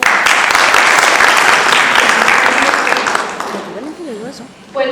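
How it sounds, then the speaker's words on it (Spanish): An audience at a university alumni gathering applauds a speaker with loud, dense clapping that tapers off near the end as a voice begins to speak. "Un fuerte aplauso, por favor."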